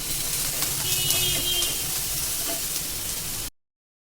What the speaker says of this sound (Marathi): कांदा छान मऊ भाजला जातो।